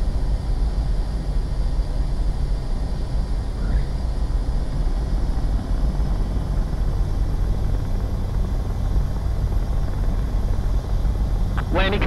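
A jet aircraft lands in the Ace Combat 7: Skies Unknown video game, heard as a loud, steady engine roar and rushing drone that fills the whole stretch without a break.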